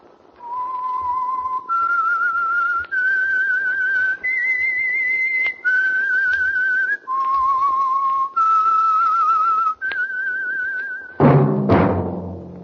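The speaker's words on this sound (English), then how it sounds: "That whistle is your signal for the Signal Oil Program, The Whistler." A clear whistled melody of sustained single notes stepping up and down, loud and close, ending in a brief burst of other sound.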